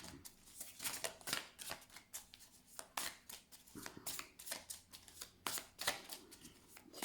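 Tarot cards are shuffled close by, producing a continuous run of quick papery riffles and soft slaps in an uneven rhythm, with no speech.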